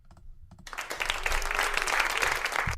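Hands clapping in a casual podcast-style chat, starting after a brief quiet moment and building into a steady, fairly faint patter of several claps that continues to the end.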